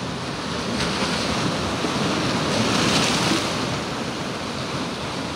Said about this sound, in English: As you can hear the waves.